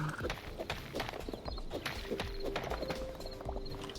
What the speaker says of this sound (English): Oh, hello, horse.